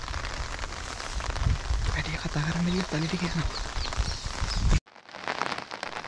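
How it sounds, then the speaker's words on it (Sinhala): Heavy rain falling outdoors near a Sri Lankan village where tusker elephants roam, a steady close hiss of downpour throughout with someone talking over it. "අපි මෙතනට එද්දි මෙච්චර වැස්සක් බලාපොරොත්තු වෙන්නේ නෙමෙයි ආවේ"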